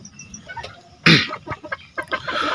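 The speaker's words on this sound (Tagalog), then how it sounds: "bibidyoan ko na lang yung yung pullets na sweater white leg" Young Sweater White Leghorn pullets give short, scattered clucks and soft calls, close by, with one louder burst of flock noise near the middle and a busier, rustling run of calls toward the end.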